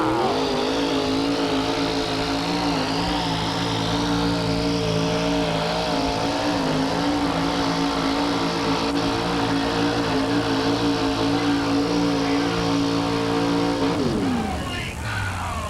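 The Wild Child monster truck roars down the track at a 1987 USHRA event in Buffalo, its engine holding a loud, sustained high-revving drone before dropping off sharply near the end, over crowd noise and an announcer.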